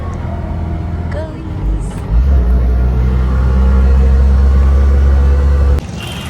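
An auto rickshaw's engine rumbles close by during the ride, with a low steady drone that swells as it revs and pulls away. People talk over it throughout.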